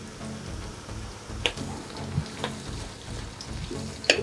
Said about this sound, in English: Keep stirring for about 2 minutes to give the onions some good color.